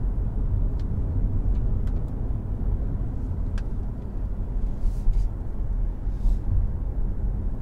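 Cabin sound of a BYD Seal electric car driving on a road in Australia in fog, a steady low rumble of tyres and road noise with a few faint ticks, no voices.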